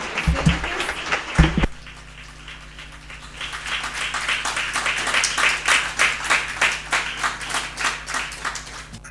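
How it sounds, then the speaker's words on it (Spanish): Teachers applaud at an international journalism seminar panel of the Colegio de Periodistas: a sustained burst of many hands clapping, steady and fairly close, lasting several seconds after a brief low thump at the start. "Un aplauso aquí de parte de los docentes."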